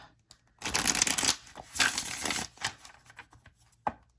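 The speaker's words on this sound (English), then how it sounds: "I'll go ahead and shuffle them" A tarot card deck being shuffled by hand, with several quick riffling bursts of cards and some brief taps, close and fairly quiet, no voices.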